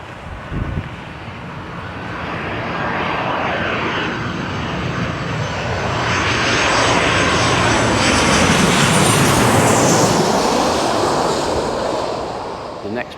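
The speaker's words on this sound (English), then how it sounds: "This one is a Ryanair coming in from Cork Island." A Ryanair jet airliner on approach to Lanzarote, arriving from Cork, roars overhead in a long, broad rush that builds to a peak and then tapers off, with gusty wind buffeting the microphone.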